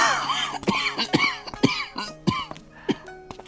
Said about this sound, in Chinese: 这老者一边走一边不停地弓着身子咳嗽。